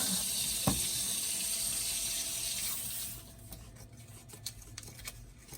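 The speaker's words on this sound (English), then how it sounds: "This is how you bleed the pump." Water running from a water pump as it is bled, a steady hiss and splash that drops off partway through into quieter dripping and small taps.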